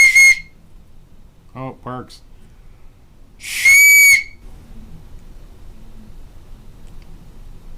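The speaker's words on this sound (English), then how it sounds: "I haven't blown a whistle in ages." A 3D-printed plastic whistle gives a short shrill blast, then a longer loud blast a few seconds later, with a brief spoken remark between them.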